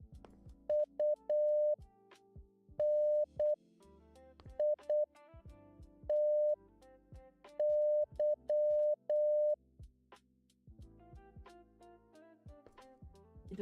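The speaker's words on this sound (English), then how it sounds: "I get it's Morse code, but I don't get it." Morse code beeps from a furry game jam video game sound as a steady tone in short and long pulses with pauses, playing at moderate volume over a busy, quieter game soundtrack.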